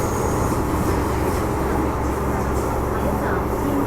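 Train passing through a station on the Hang Hau to Tin Hau route in Hong Kong, a steady loud rumble of rolling wheels and rail noise filling the whole stretch, with voices faintly mixed in.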